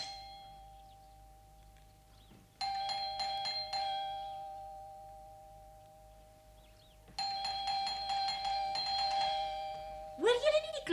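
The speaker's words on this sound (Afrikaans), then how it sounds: "Hoor julle nie die klokkie nie?" An electronic doorbell rings in two bursts of rapid repeated chiming tones, each hanging on and fading, over a steady background hum, with a sharp sweeping sound cutting in at the end.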